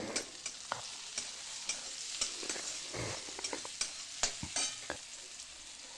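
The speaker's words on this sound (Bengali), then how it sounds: "এবার পেঁয়াজের সাথে আলুটাকে ভেজে নেবো" Potatoes and onion frying in a pan, a soft continuous sizzle broken by repeated scraping clicks from stirring with a spatula, fairly close and fairly quiet.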